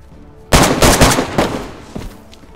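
Gunfire in the video game DayZ: a cluster of sharp, loud, close shots over about a second and a half, followed by a fainter trailing shot as the echo fades.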